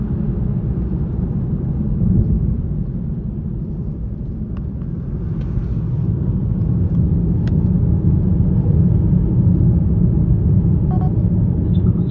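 A BMW M240i runs with a deep, steady engine rumble that swells slightly as it accelerates, close and continuous with no talking.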